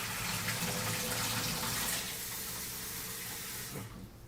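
Rice is rinsed under running tap water, a steady close rush of water that fills the clip and cuts off just before the end.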